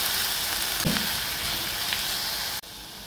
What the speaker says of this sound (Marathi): ही भाजी छान हलवून घेऊ आपण।